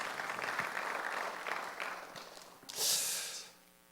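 Congregation clapping during a Sunday worship service at Jesus Centered Church in Incheon, Korea: a crowd's applause in uneven waves that fade, followed by a brief breathy hiss.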